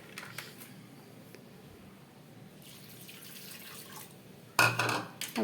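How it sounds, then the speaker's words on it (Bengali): Vegetable peels are rinsed in water, with a quiet stretch before a sudden, close burst of splashing and swirling near the end. "এবার খোসাগুলো আমি ভালো করে একটু ধুয়ে নেব"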